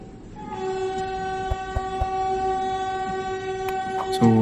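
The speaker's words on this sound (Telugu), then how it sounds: "సో లాంగ్ హార్న్ అయితే వేసాడు." Long sustained horn from the Hazrat Nizamuddin Rajdhani Express departing Kazipet station, loud and near, holding steady over rumbling rail noise before a louder burst at the end.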